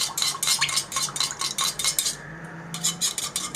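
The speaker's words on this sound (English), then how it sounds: "and stir it very nicely like this" Blue colouring being stirred into gel candle mixture in a container: rapid rhythmic scraping and clinking of a utensil against the container, close and fairly loud, pausing briefly before resuming.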